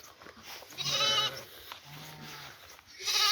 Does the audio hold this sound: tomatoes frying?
no